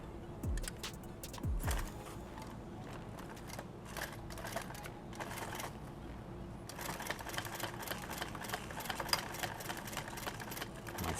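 A sewing machine stitches a modular chest rig, a steady mechanical chatter running through with bursts of faster stitching and a few handling knocks, fairly close and at moderate level.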